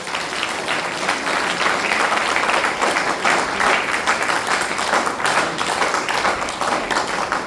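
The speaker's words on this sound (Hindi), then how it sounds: "अपने लिए ताली बजाओ अगर आप चाहते हैं।" An audience at a school gathering claps for itself, a dense, lively round of applause with sharp individual claps standing out, sustained for several seconds.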